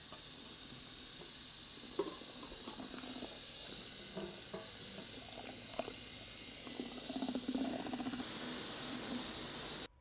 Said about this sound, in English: we're going to go ahead and roll the material down on our SL system